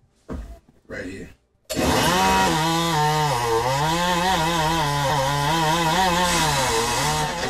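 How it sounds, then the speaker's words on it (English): A chainsaw engine starts after a few short bursts and then runs loud and close, its pitch rising and falling as it revs and bogs down. "I'm gonna put on hearing protection before you do the chainsaw."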